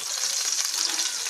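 Two butter cubes melting in a potato tray, with a close, steady crackling sizzle filling the whole brief moment, no talk.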